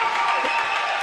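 Home basketball crowd at a GSAC championship game cheering and clapping in a broad wash of noise, brief and dense, under a commentator's voice.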